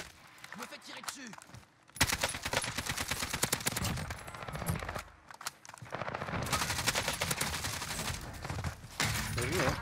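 Rapid automatic gunfire from the online shooter game Call of Duty: Warzone, long dense bursts of shots separated by short pauses, loud and close, with players talking over it.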